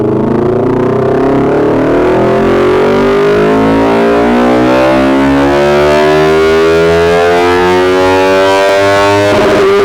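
Yamaha R3 motorcycle engine revving hard on a dyno after a remap, a loud close tone climbing steadily in pitch over about ten seconds with no talking.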